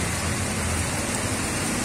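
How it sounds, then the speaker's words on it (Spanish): Heavy afternoon rain pouring down in Siloé, a dense, loud and continuous wash of falling water with no voices. "Fuerte lluvia comienza a caer acá en Siloé a estas horas de la tarde de hoy"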